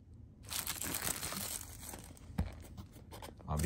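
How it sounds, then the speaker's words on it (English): Packaging of an ORCA Totem ESC being unwrapped after its seal was cut with a knife: close, continuous crinkling and tearing of shiny wrapping with a sharp crunch midway, no talk. "So let's just unwrap this guy and see what's inside."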